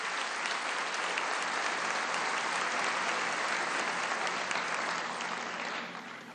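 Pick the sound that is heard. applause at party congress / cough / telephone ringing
applause at party congress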